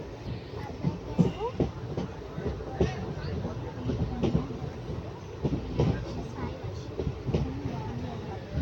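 The Kakinada Town–Mysuru inaugural special train (17289) rolls along with a steady rumbling clatter and rhythmic wheel clicks, heard from inside the coach, while people talk faintly in the background.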